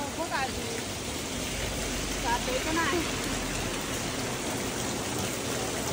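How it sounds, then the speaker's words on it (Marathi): Dense, constant heavy rain hisses all around in Shrivardhan during a storm, a loud wash of drops with a few faint voices mixed in underneath. "पाऊस फुल आहे, ऐकत नाही."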